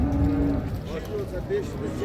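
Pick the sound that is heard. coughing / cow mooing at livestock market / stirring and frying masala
cow mooing at livestock market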